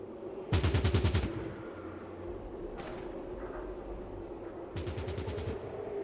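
Browning machine gun fire in the video game Fallout Tactics: Brotherhood of Steel, two loud rapid bursts of rattling shots, the second after a long pause, over a low steady background hum.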